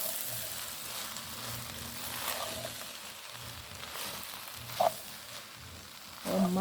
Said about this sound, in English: I'm gonna drizzle a little turmeric all over my rice, and I'm gonna give that a good mix